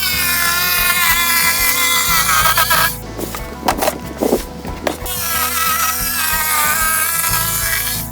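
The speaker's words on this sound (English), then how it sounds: "we're gonna cut it out with the jigsaw again." A jigsaw cuts through plywood with a loud, buzzing, steady whine, pausing briefly in the middle with some knocks and clatter before resuming.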